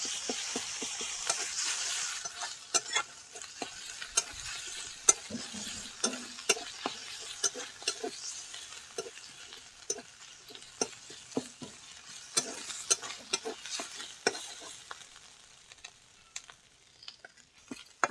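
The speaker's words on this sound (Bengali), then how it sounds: "আদা রসুন বাটা ভালো করে ভেজে নিয়েছি।" Ginger garlic paste frying with onions in a pan, a continuous soft sizzle punctuated by frequent sharp spoon taps and scrapes as it is stirred, close and steady throughout with no voices.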